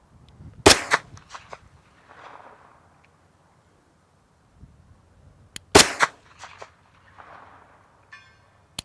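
Two loud 9mm pistol shots at an outdoor range, each followed a moment later by a fainter metallic ping from a steel target downrange, with quiet pauses between and a faint rattle at the end.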